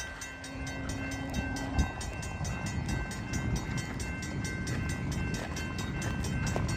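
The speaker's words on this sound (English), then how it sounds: "Here comes an Amtrak train, guys." An Amtrak train rumbles past at close range, a steady loud roar of wheels and cars with a brief horn tone near the start.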